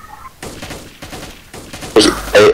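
Bursts of gunfire in the video game DayZ, several quick loud volleys in a row, the last ones heaviest and closest, with no talking over them.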